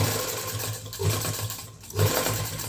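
A sewing machine runs steadily, stitching a zipper onto a coat with a close, continuous mechanical whirr and rapid needle pulsing, briefly surging in speed.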